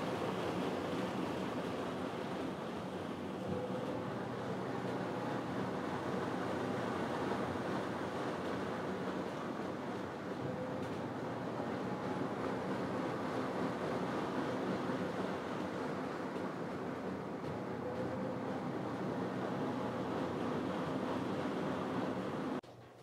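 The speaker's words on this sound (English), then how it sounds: "It's gonna give it one more spin, I'm sorry, to get the extra water out." A Black and Decker portable washing machine on its spin cycle, a steady, loud whooshing whir that runs continuously without pause before cutting off abruptly at the end.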